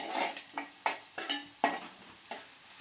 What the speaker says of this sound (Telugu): ఉల్లిపాయ వేగింది